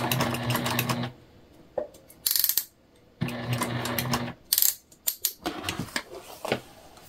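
A sewing machine stitches across a bag seam in two rapid buzzing runs of about a second each, separated by quiet pauses and followed by sharp clicks and clatter as the fabric is pivoted.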